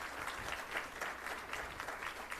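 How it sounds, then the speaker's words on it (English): Applause from a school board meeting audience honoring music students, a steady dense clapping from many hands that holds for the whole stretch without voices. "So let's give all of our students a round of applause."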